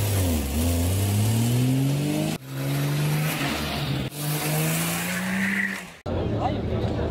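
Spartaan kit car fitted with a Triumph engine at an oldtimer parade in Geleen, revving loudly and close with rising and falling pitch over three bursts, with voices talking over it.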